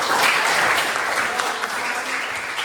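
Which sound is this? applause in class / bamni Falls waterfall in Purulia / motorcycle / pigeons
applause in class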